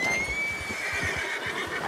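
A horse neighs briefly in Red Dead Redemption 2, a close, shrill whinny heard alone over its shuffling hooves in the outdoor game world.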